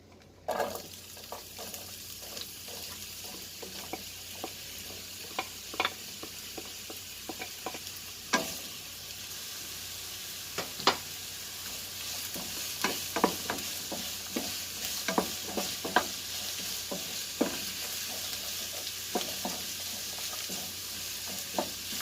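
Onion frying on low heat in a pan for chicken biryani, a continuous even sizzle with scattered sharp pops and occasional stirring scrapes, close and alone for over twenty seconds.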